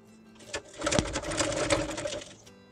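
A sewing machine stitches the tie string and back strip onto a baby's ear-covering bonnet, running in one steady, fairly loud mechanical whir that builds and then stops after about two seconds, with no talking.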